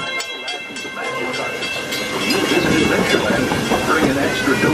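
The Walt Disney World Railroad train at Magic Kingdom rumbles along the tracks with steady rolling clatter, growing louder toward the end; voices are faintly mixed in.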